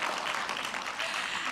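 Brief burst of audience clapping at a CATHSSETA sector skills conference, a dense, fairly close patter of many hands with no talk over it.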